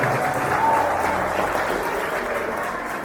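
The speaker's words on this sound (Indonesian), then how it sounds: "Tepuk tangan dulu Bu Enda." A crowd of students at a junior high school religious event applauds their teacher, a dense, steady wash of clapping that tapers slightly toward the end.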